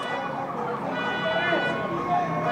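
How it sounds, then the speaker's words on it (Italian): An outdoor alarm siren wails with a wavering, rising and falling tone that carries steadily throughout, with faint voices mixed into the background. "gli allarmi"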